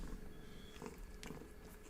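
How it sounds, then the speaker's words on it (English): A cat purrs steadily close by, a soft continuous low rumble running through the whole short stretch with a few faint rustles on top. "you can hear her purring. She's purring big time."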